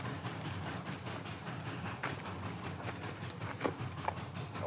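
A train rolls in on the rails with a steady rumbling roar and faint clattering, loud and continuous with a few sharper metallic clanks near the end.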